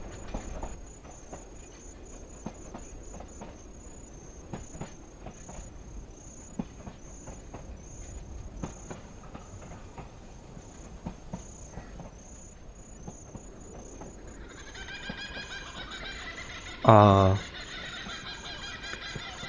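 A train running in a meditation-style video game: a steady, soft clattering rumble with faint rhythmic knocks, joined late by a high insect-like chirr and a brief loud descending tone near the end.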